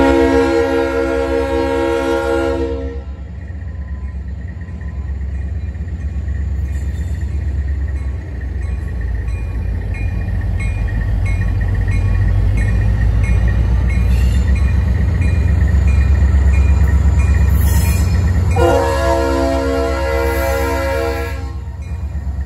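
A Norfolk Southern freight train, NS 18M, rolls through Valley Crossing, with loud horn blasts at the start and again near the end around a long, heavy rumble of passing cars.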